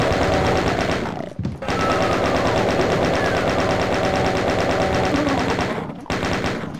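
Chain gun firing in The Ultimate Doom, a loud continuous rapid burst of shots with two brief pauses, dense and close.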